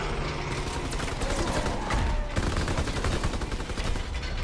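Dense rapid gunfire from Call of Duty: WWII Nazi Zombies in the Final Reich map, a steady barrage of overlapping shots and bursts holding loud and continuous throughout.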